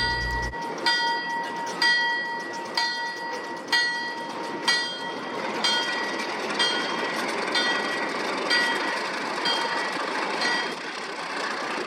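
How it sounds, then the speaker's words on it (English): Durango & Silverton steam locomotives back their train slowly through town, with rhythmic clanks and rail clicks at regular intervals over a steady rumble, fairly loud and close. "the locomotives began reversing back towards the Y at the end of town to turn their train back around"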